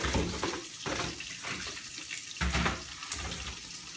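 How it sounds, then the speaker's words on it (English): Water pouring and draining through Brussels sprouts in a kitchen colander, a close, continuous splashing rush with uneven surges. "now I'm gonna take the Brussels sprouts and drain them in the colander"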